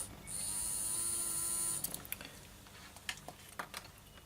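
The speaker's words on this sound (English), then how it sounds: "let me check and see if this motor is a worker. And yes, there we go." A small Minitrix N gauge model locomotive motor from a Class 42 Warship runs with a steady high-pitched electric whine for under two seconds, then stops, followed by a few soft clicks and handling taps.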